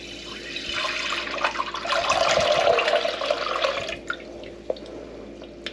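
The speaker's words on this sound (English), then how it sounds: "here we have 2 liters of our filtered clean goat's milk, which I'm just going to pour straight in here" Two liters of filtered goat's milk pour in a continuous splashing stream into a saucepan for homemade cheese, swelling in the middle and then trailing off into a few drips, close by with no talk.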